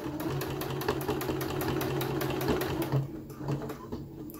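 Domestic sewing machine stitching a few rows across a fabric face mask, a rapid, steady mechanical patter that stops abruptly near the end and leaves a few faint clicks.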